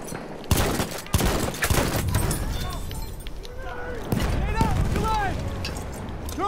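Shotgun shots in a first-person shooter: heavy, close blasts and crackling gunfire in quick succession over busy battle noise and game effects, with a voice talking throughout.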